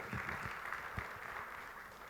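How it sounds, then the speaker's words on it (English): Applause at a women's business leadership event in Maharashtra, a steady dense crowd wash held at moderate level for about two seconds with a few sharper claps standing out, no voices over it. "So give her a round of applause"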